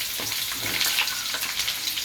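Onion frying in a non-stick pan, a close, bright sizzle with a few louder crackling bursts as it cooks.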